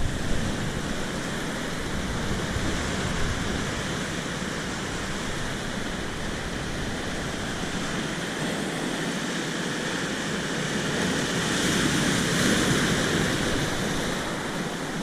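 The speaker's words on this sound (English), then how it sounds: "the waves will at least get up to here" Ocean waves breaking on rocks at a fishing spot, a constant loud wash of surf with broad hiss and roar that swells slightly near the end, with no talking.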